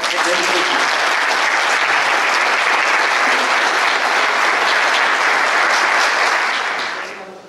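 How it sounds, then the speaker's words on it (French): Warm, sustained applause from a hall audience of French mayors on a study trip to China, a dense and loud wash of many hands that holds steady before tailing off at the end. "Je vous demande de l'applaudir très chaleureusement."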